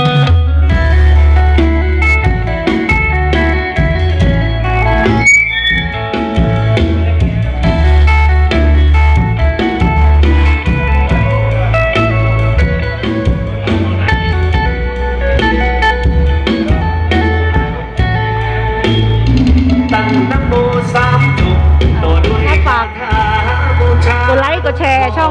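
An outdoor sound system in Rayong with 15-inch bass speakers and doubled 8-inch mids blasts music loudly and continuously, with heavy booming bass under busy midrange instruments and what may be vocals.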